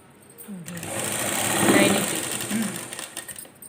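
A sewing machine stitching cutwork on a blouse, running in a steady whirring burst that swells and fades over a few seconds, close by.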